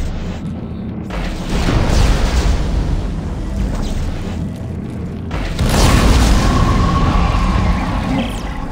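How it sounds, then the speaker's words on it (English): A heavy rumbling explosion of an overheated nitrogen trichloride tank in Dead Space 2, loud and close, with a second surge of roaring blast noise and no speech. "Nitrogen trichloride. Those explode if they overheat."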